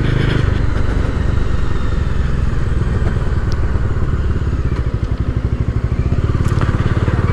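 A 2020 Bajaj Dominar 250 motorcycle's engine drones steadily and close while being ridden, with a continuous low pulsing throb and wind rush, fairly loud throughout.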